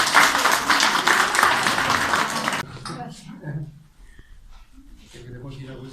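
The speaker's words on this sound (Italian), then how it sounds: "Applaudiamo le ragazze." Applause for a group of girls at the end of a class lesson, a loud burst of clapping for about two and a half seconds that stops abruptly, followed by quieter talk.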